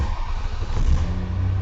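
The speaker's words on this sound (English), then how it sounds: "We're running the engine for just a moment so the oil goes down" A car engine running right after an oil change, a steady close rumble with a slight rev, loud and continuous with no talk.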